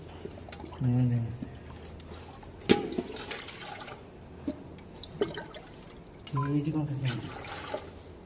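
Oil pours out of a bullock-driven wooden oil press in a trickling, gurgling flow with drips, while voices briefly sound in the background.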